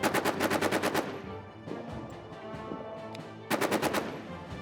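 Video game Invincible trench warfare gunfire: rapid loud machine-gun bursts open and close the clip, with a rumbling battlefield din between them.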